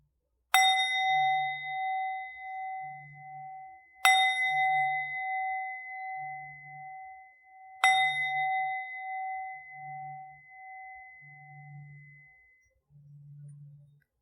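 A meditation bell rings three times at a slow, even pace, each strike a bright ding that sustains and fades, closing a gentle hatha yoga flow. A soft low hum pulses underneath, and no one speaks.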